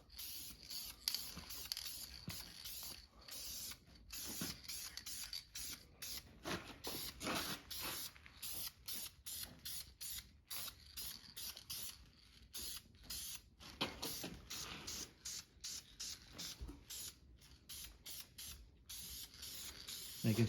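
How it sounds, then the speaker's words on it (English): A spray can mists paint onto a 2JZ engine block in short and longer hissing bursts with brief pauses between passes, close and fairly quiet. "let's start off with a nice light coat. Make sure we're covering everything."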